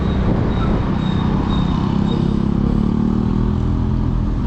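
A Suzuki Address V125 scooter rides along a road, its small engine giving a steady, close drone with road and wind rumble throughout and no talking.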